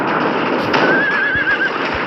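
A horse neighs in the shooter game Polygun, a single high wavering whinny ringing out above steady game noise and scattered low thumps, with no talk.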